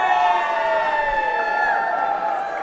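A crowd at the robotics competition playoffs cheers and whoops loudly and steadily, with high sustained shouts and whistles, and scattered claps underneath.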